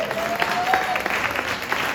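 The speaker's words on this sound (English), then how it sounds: "Let's give Alan Roskoff a big round of applause" Brief burst of audience applause at a Pride event, steady clapping from a crowd throughout, with a faint voice under it.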